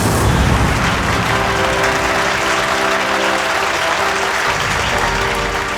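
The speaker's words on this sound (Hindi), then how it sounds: "ऑडियंस इसलिए तालियां बजा रही है" An audience at a magic show claps steadily and loudly, a thick, continuous wash of applause that holds for several seconds without pause.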